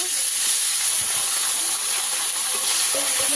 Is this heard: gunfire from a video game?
no